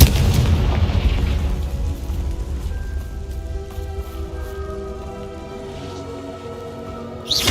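Confringo blasting spell in Hogwarts Legacy, a loud booming explosion at the start with a long rumbling, ringing decay and crackling debris that fades out.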